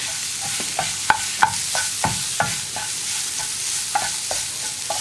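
Ground lentils are stirred into capsicum frying in a pan over a high flame, with a steady sizzle under a series of rhythmic scraping spoon strokes, close and clear.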